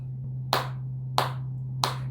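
Three sharp hand claps spaced evenly about two-thirds of a second apart, keeping a steady rap beat over a low constant hum, with no voices.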